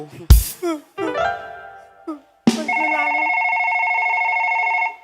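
Telephone ringtone at a live Isan mor lam comedy stage show at a temple, a steady electronic ring held for over two seconds after brief bursts of talk and noise, fairly loud and close.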